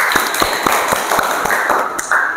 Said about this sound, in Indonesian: Tepuk tangan dulu dong buat Kak Ayu.